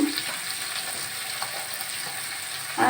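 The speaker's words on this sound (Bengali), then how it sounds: "পাঙাশ মাছের তেল জাল বানানোর জন্য পেঁয়াজগুলো আগে ভেজে তুলে নেব" Plenty of sliced onions with a little salt frying in hot oil for a pangas fish curry, a steady, close sizzle with faint stirring and a brief scrape at the end.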